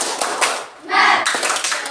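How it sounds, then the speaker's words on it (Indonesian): A class group does a rhythmic spirit clap, with a few sharp clap bursts and chanting voices mixed in. "Tepuk semangat."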